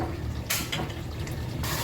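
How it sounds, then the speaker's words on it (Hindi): Water pours into a cooking pot holding green chillies for a bottle gourd and meat curry, a steady rushing splash that swells in bursts partway through. "तो जी बस यहाँ पे हम डालते हैं पानी।"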